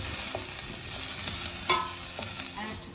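Onions and garlic fry and sizzle steadily in a pan as a utensil stirs and scrapes through them, with a few sharper clinks and scrapes standing out over the continuous close hiss.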